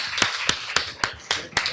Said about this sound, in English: let's give a round of applause for our.